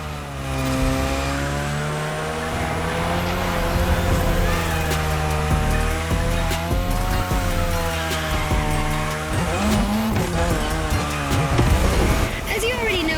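A car drifts around a drift track in The Crew Motorfest racing game, its engine revving and wavering continuously with tyre squeal layered in, loud and close for the whole stretch.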